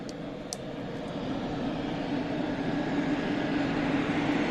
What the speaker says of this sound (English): Turboprop aircraft